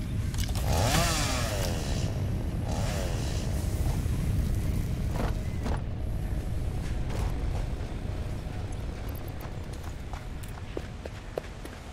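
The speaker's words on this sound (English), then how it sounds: "Hey, I have a chainsaw." A chainsaw in the video game Satisfactory revs and buzzes mechanically, starting with a couple of rising whines, then running steadily alongside clunking footsteps and scattered mechanical clicks at moderate volume.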